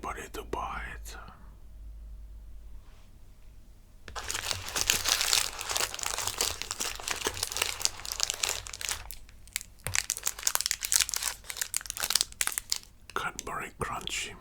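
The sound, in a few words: crinkling wrapper of Cadbury Crunchy Violet Crumble chocolate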